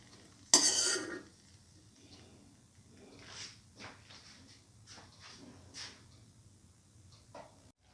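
Metal utensils clatter sharply against a pan as cooked food is lifted off it, followed by softer intermittent scraping and tapping in a home kitchen.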